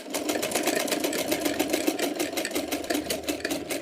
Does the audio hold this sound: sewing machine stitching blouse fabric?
yes